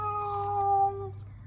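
A cat gives one clear, sustained meow, close and fairly loud, fading out at the end over a low steady hum.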